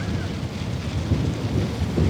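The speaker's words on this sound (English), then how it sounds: "The wind's blowing about 20 to 30 mile an hour gusts" Steady, blustery wind gusting 20 to 30 mph roars across the microphone with low rumbling buffets on a freezing winter morning, continuous for the whole stretch and no voices.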